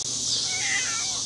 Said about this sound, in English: Meow.